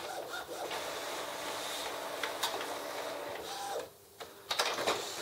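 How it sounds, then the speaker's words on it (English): An Epson Expression XP-202 inkjet printer fitted with a continuous ink system runs a print job, giving a steady mechanical whir and hum with scattered clicks and a short pause near the end, heard alone and close. "It's got one more to print, and then it's going to start printing my picture."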